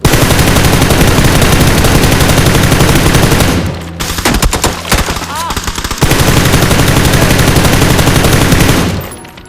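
Sustained automatic gunfire from the video game PUBG (Battlegrounds) roars loud and close, breaks off around the middle into a few scattered shots, then returns as another long burst before fading.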